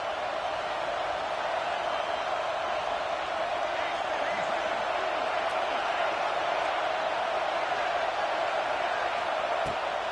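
Home stadium crowd at a college football game, a dense, sustained roar that stays loud and steady throughout, with speech mixed into the noise.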